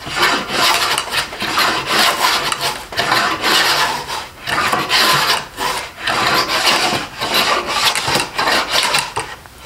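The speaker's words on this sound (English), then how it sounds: "I would basically take the fence off and do shavings like this." Stanley 41 combination plane with the fence removed cutting shavings from a wooden board, rhythmic rasping strokes repeating roughly every second, close and clear with no voices.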